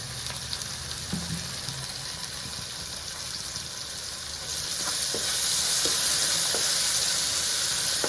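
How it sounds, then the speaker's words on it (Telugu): A gobi tomato curry simmers on a low flame in a pan, with a steady close sizzle and hiss, a few light stirring taps, and the bubbling growing a little louder partway through. "ఇది మెత్తగా మగ్గిపోయే వరకు సిమ్లో మగ్గించుకుందాం."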